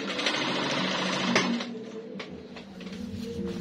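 A sewing machine stitches fabric for a gathered underbust corset gown, running with a fast, steady mechanical whir close by that eases off briefly partway through, then picks up again.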